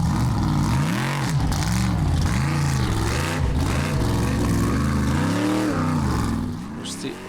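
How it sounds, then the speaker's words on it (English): An old-school Formula Offroad truck with a big block Chevy engine revs at an off-road event in Akureyri, Iceland, its engine rising and falling in repeated loud surges before easing off near the end. "It's an old school Formula Offroad truck, very heavy, but makes up for it with the biggest engine,"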